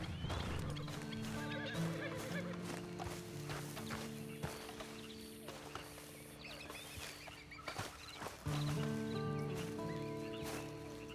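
A horse neighs in the Red Dead Redemption 2 video game, with whinnies and hoof clip-clop heard over a steady tonal musical score that continues throughout; no speech.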